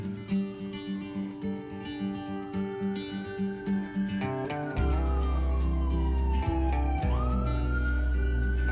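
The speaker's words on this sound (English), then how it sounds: "Here comes the siren." An ambulance siren wails past, its rising and falling tone sweeping from near to far with a clear pitch drop and a loud low rumble of traffic underneath.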